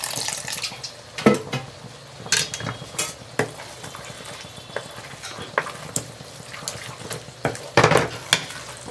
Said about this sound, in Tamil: இன்னும் கொஞ்சமாக தண்ணி சேர்த்துக்கிறேன்.